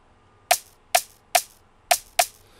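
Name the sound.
clank percussion sample in beat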